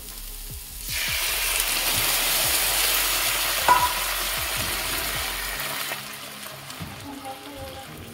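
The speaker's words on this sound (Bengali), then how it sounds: "যেহেতু ডাইরেক্টলি হট প্যানে আমি সসটা দিচ্ছি আর জল মেশানো আছে" Paneer Manchurian sauce mixed with water hits a hot pan and bursts into loud sizzling that hisses steadily for several seconds, then dies down to a softer bubbling.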